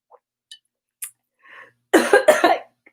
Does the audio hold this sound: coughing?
yes